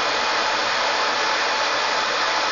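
Korad KEL W 170A electronic load running under load, its cooling fan blowing a loud, steady broadband whoosh that stays constant and close, with no talking.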